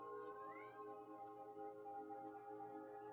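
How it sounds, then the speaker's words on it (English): Indoor cat meowing from another room behind a closed door, one drawn-out rising meow early on, faint and distant over a steady electrical hum, with no talk. "he's back there meowing because he wants in here with me"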